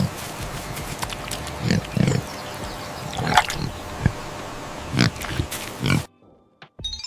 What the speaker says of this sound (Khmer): សត្វជ្រូកកំពុងរត់លេងមុខផ្ទះ